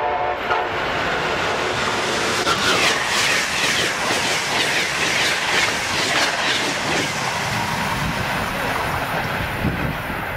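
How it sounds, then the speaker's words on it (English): An Amtrak train approaching a station rumbles steadily along the rails with a continuous loud roar and rattling, close by, no voices. "Train approaching. Please remain behind yellow line."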